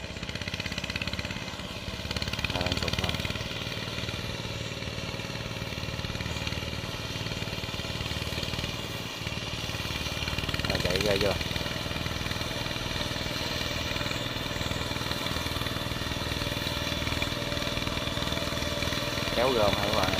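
A grab excavator digging earth for a shrimp pond runs with a steady, continuous engine drone from start to finish, with a faint voice speaking now and then over it.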